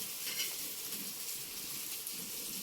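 Eggplant pieces stir-fried and turned in a pan, giving a faint, steady sizzle with soft occasional scrapes of the turning utensil, with no voices.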